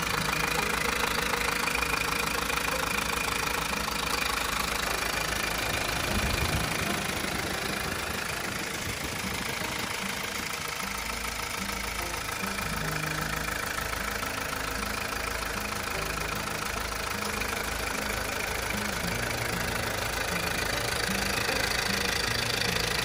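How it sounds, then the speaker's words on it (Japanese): A Mazda CX-5 (KE) car engine idles steadily for a long stretch, a continuous low rumble with a faint rhythmic knock and no voices. "しばらくアイドリングしてますが"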